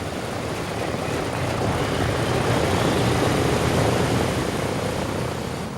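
A B-17 Flying Fortress bomber's piston engines give a dense, steady droning roar, loud and unbroken throughout with no voices.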